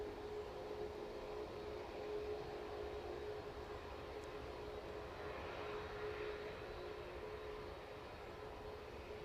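A jet airliner rolls down the runway at East Midlands Airport in the evening, braking hard after landing; a steady broadband roar with a constant whine holds throughout, fairly distant and even in level.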